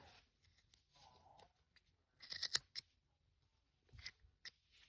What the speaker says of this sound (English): These scissors are dull.